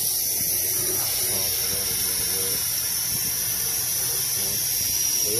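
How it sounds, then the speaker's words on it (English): A steady, close hiss of cleaner being sprayed onto a car engine, continuous and even throughout, with faint background noise underneath. "I'll spray a little more."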